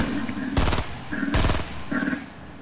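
Two loud bursts of rapid automatic gunfire in Fortnite ring out close by, each lasting about half a second, separated by brief pauses with faint background game sound.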